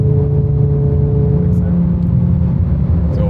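A VW Golf 7 R with a tuned five-cylinder engine drones loudly from inside the cabin, its steady low engine hum sustained throughout with little change in pitch.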